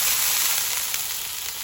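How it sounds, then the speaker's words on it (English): Oil and water sizzle and steam on a Blackstone griddle at a campsite, a bright continuous hiss that stays loud and even throughout, with no voices. "We're gonna let that sizzle for a little bit longer"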